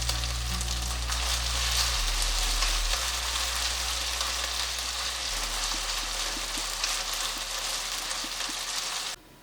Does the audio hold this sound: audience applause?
no